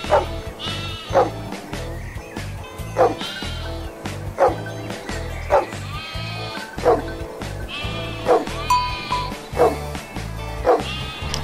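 Sheep bleat over and over in the Xbox 360 indie game Wool, the calls coming at a regular pace over a looping music backing.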